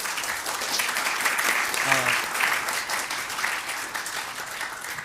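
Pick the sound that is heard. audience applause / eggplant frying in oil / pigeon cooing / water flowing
audience applause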